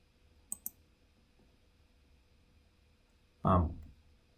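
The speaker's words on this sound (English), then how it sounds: "Clicking on the wrong or hitting the wrong key." Two quick, faint computer keyboard key clicks come close together in an otherwise quiet room, followed a few seconds later by a short burst of voice.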